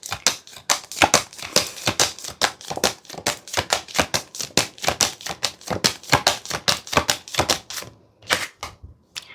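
A tarot deck is shuffled and cards are drawn, making rapid, crisp paper clicks and flicks in a dense, close, continuous run that thins out near the end.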